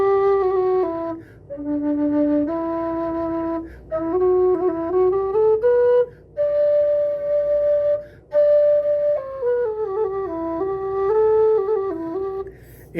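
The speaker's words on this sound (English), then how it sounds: "This is an Irish whistle that is a low whistle." An Irish low whistle plays a slow, breathy melody, its notes sustained and stepping up and down with short gaps between phrases, close and clear with no talking.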